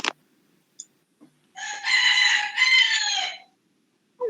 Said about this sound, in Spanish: está cantando un gallo